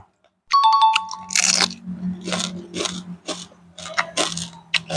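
Close, loud crunching and chewing of crispy fried chicken skin eaten with bamboo shoot soup, a run of crisp bites and grinding chews with no talking.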